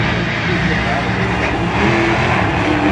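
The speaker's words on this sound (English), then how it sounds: "right, one of the better burnouts of the day." A Dodge Challenger Hellcat does a burnout at a drag racing event, its engine roaring loud and sustained with tire noise throughout, while a person talks over it.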